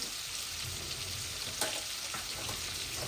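Tilapia fish pieces fry in hot oil in a pan, a continuous loud sizzle and crackle with a faint clink near the middle, no voices.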